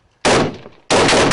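Gunfire erupts during a Marine firefight with insurgents, two loud, close bursts of rapid shots separated by a brief quieter gap, with no voices over them.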